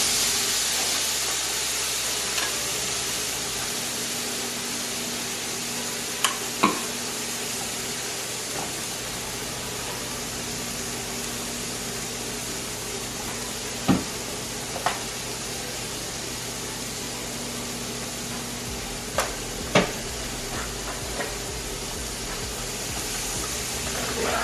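Tilapia and mixed vegetables cook in a pan with a steady, soft hiss of sizzling, broken by a few faint clicks and taps, and no talking.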